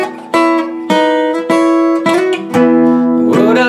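Electric guitar slide fill from a song, played on the 1st and 3rd strings: a run of bright plucked notes with gliding pitch slides between them, each attack ringing and sustaining, played alone and close.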